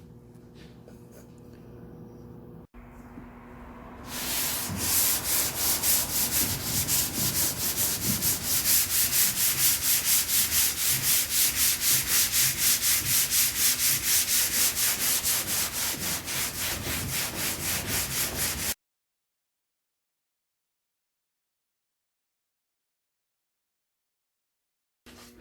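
Sanding to rough up a patch on a boat hull for bonding, a steady close scraping rasp that runs continuously for about fifteen seconds before cutting to silence.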